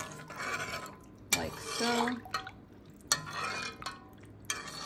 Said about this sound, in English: we're gonna stir to combine and dissolve